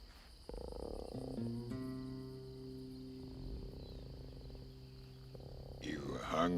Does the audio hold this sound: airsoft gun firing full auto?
no